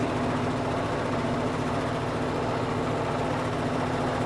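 A face mill with APMT1604 inserts cuts titanium at 750 RPM with the feed turned down, giving a loud, continuous, even machining drone with a low steady hum throughout and no talk.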